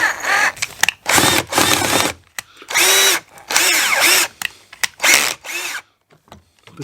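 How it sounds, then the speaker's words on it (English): A power drill in a Fiat Panda 100HP fog lens unit replacement whirs in repeated short bursts as it slowly drills out a screw, with brief pauses and ratcheting clicks between runs, close and fairly loud. "you get to see me drilling out"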